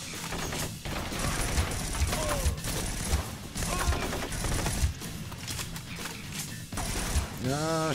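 A weapon magazine is reloaded in the shooter game Blue Estate, with repeated mechanical clicks and ratcheting clacks over a busy game soundtrack and bursts of gunfire, plus a few short rising electronic tones.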